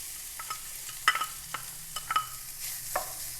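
Chicken mince with crushed garlic fries in oil, a soft continuous sizzle broken by several sharp spoon scrapes and stirring clicks against the pan, close and fairly quiet.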